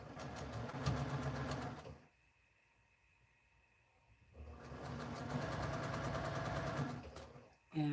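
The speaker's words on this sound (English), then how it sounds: "So then I'm going to take these two and sew that on the short side." Sewing machine chain-piecing quilt pieces for a friendship quilt, running steadily for about two seconds, pausing for roughly two seconds, then stitching again for a long continuous stretch, close and fairly loud.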